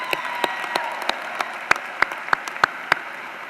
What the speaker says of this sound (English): Also, yes, you can applaud that